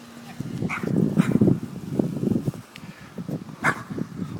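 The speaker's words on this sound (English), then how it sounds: "There's a dog barking at me." A dog barks close by in a few irregular, scattered yaps and woofs over a rustling, noisy outdoor background, with no talk heard.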